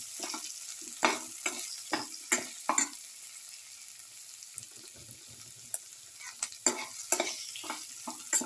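A spoon stirs and mixes an okra, tomato and rice casserole with chili powder in a pan, giving irregular scraping and clinking strokes over a soft sizzle, with a quiet pause midway.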